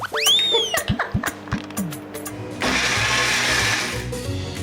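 A kitchen mixer grinder with a small jar packed with onions whirs into a loud, steady grind to make paste for an Andhra fish curry, after a few clinks and brief clattering handling sounds.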